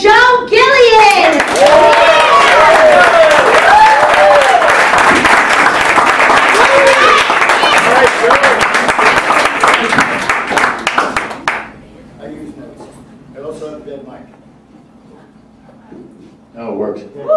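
An audience applauds and cheers a stand-up comedian at a comedy club, loud sustained clapping for about eleven seconds that then stops abruptly, followed by someone talking into a microphone.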